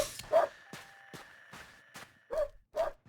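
Dog barking in the video game ADACA Zone Patrol: a series of short, sharp barks at a steady rhythm, fairly close and moderately loud, with faint footsteps and a low hum beneath.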